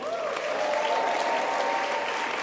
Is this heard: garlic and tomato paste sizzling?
no